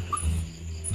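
Small puppy giving a brief, faint whimper up close, a short soft whine in a quiet setting.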